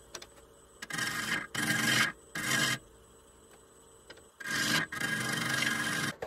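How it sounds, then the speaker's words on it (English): Bowl gouge cutting a wooden dome top on a lathe, giving harsh rasping scrapes in several bursts separated by brief pauses, close and fairly loud with no voices. "I'm going to start with a bowl gouge."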